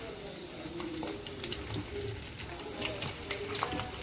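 Garlic dropped into hot oil with cumin seeds for a methi bhaji, giving a steady low sizzle with scattered small crackles throughout, fairly faint.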